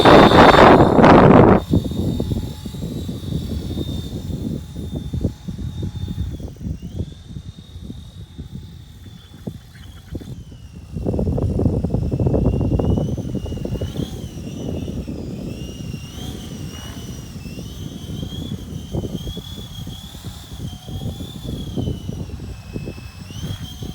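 Kyosho Hyperfly RC helicopter in flight: a steady high-pitched electric whine that bends slightly as it moves, mixed with buzzing rotor wash and wind noise that swells loud near the start and again midway.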